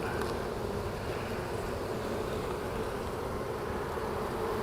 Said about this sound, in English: I'm seeing more bees down in the bottom now